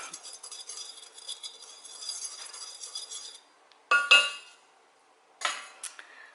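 Dry cake batter with baking soda is stirred in a bowl, producing scraping, clinking utensil strokes against the bowl, first continuous and then in a few brief bursts separated by quiet.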